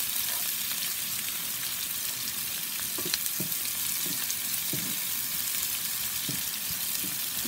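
Onions frying with a pinch of salt in a pan, giving a steady close-range sizzle with soft occasional clicks of stirring throughout.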